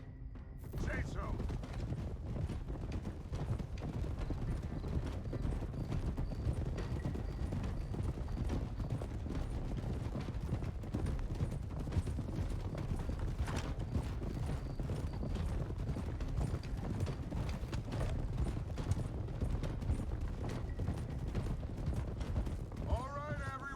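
Horses clip-clop along at a steady walking pace in the Red Dead Redemption 2 video game, a continuous soft run of hoofbeats beneath quiet ambience, with a brief mechanical click near the start.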